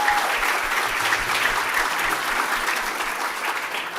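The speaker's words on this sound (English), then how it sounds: "please give a round of applause to Pierce Kennemer" An end-of-year gathering audience gives a loud, sustained round of applause for a university president, dense continuous clapping from a close crowd.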